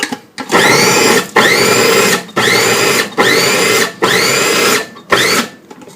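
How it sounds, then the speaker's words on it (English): Food processor pulverizing tofu with chili into a mince, running in five loud, near bursts of about a second each with brief pauses between, whirring strongly with no talk. "Process the tofu."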